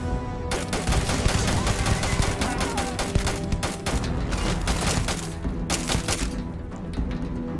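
Sustained rapid gunfire from the Starfield video game, dense overlapping bursts of shots and thuds continuing loudly throughout, with a few brief pauses in the barrage.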